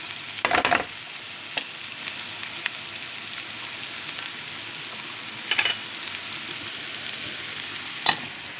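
Onion fries in oil in a pan with a soft, steady sizzle, and a few sharper crackles and stirring scrapes break through at intervals, with no voices.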